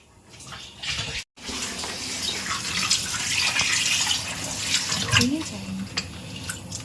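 Chicken pieces are rinsed under a running tap in a home kitchen, a steady near splash of water with faint clinks, while voices speak over it.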